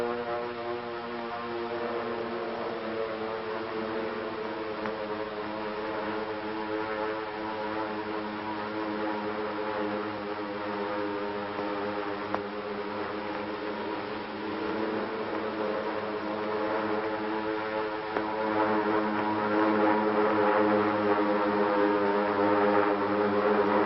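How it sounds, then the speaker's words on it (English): Steady, low droning hum of approaching propeller aircraft engines over the Pacific near Honolulu on December 7th, continuous and even throughout, slowly swelling slightly louder toward the end, with no voices. "the drone of planes was faintly heard"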